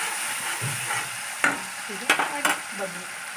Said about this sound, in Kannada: ಈಗ ನಾವು ಮಿಕ್ಸ್ ಮಾಡೋಣ ಇದು ಚೆನ್ನಾಗಿ ಮಿಕ್ಸ್ ಮಾಡೋಣ